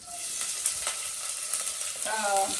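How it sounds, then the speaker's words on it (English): Chopped onions browning in a hot pan, a close, even sizzle with stirring scrapes throughout and a brief higher-pitched sizzle near the end, no voices. "while we are browning the onions"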